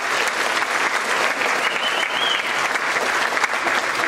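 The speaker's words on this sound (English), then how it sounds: "a round of applause" Parents and families at a first grade elementary school Christmas program clap in a dense, sustained round of applause filling the room, steady and loud throughout, with a faint murmur of the crowd underneath.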